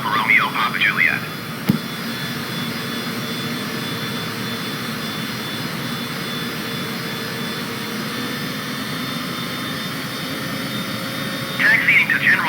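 A Ryanair jet airliner taxis in Microsoft Flight Simulator, its engines giving a steady, even whine and rumble throughout, with brief radio voices at the start and end.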